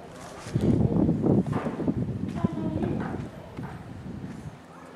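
Horses move about close by, hooves clip-clopping in uneven clusters over a few seconds, with light wind noise.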